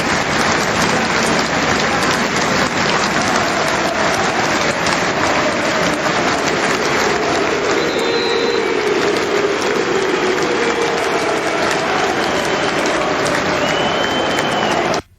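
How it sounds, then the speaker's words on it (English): A football crowd at a Chelsea match gives sustained loud, dense applause for Ukraine, a continuous roaring clatter of clapping that holds steady for the whole stretch before cutting off abruptly at the end. "the crowd was invited to give a minute's applause in solidarity with Ukraine"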